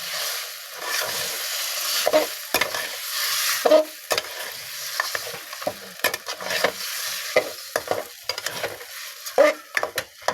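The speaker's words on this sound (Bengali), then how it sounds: "চুলার আঁচটা আমি মিডিয়াম রেখে জলপাইটা ভালোভাবে নাড়িয়ে নেব।" Olives are stirred in a frying pan over medium heat for a pickle, a soft continuous sizzle broken by repeated scraping strokes of a spoon against the pan, close and fairly quiet.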